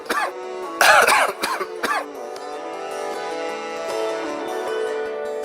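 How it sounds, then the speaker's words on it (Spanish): A young child coughs several times in a quick loud burst near the microphone, followed by a sustained musical backing tone underneath. "Toser."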